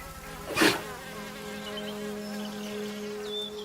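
Around 40,000 honeybees at a garden hive make a soft, steady buzz, with single bees droning past close by over a quiet background and one brief louder rustle near the start.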